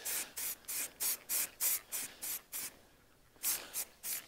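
Short bursts of spray from an aerosol paint can priming a model, about a dozen quick hissing puffs in a steady rhythm with a brief pause before the final three, close and fairly loud.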